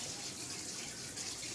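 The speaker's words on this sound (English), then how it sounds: "hit this with cold water" Cold tap water runs over chicken in a strainer, making a steady, soft gushing splash with a continuous wash and no speech.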